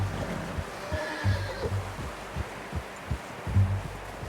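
A horse snorts and whinnies softly at close range in the video game Red Dead Redemption 2, with low rhythmic thuds and a quiet ambient backdrop.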